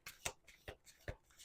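A deck of tarot cards being shuffled in several quick riffling bursts, each a short crisp flutter of card edges spaced about half a second apart, close and clear with no talking.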